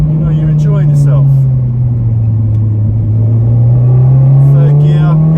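Honda Civic Type R fitted with a 2.4-litre K24 engine pulls hard in third gear, a loud steady interior drone with pitch dipping then climbing, close and continuous with no talk over it.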